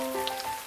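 Light rain patters steadily on a pet cockatiel caught outdoors in a rain storm, a soft continuous hiss with faint tonal chirps or hum above it and no talking.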